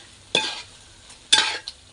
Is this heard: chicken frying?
yes